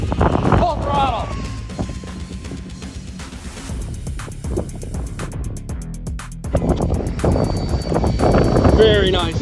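A 1/16 scale HBX 16890A RC truck with an XTeam 2850 6,550kv motor on 3S batteries runs at full throttle, a loud rushing whine swelling and passing with wind buffeting, mixed with voices talking.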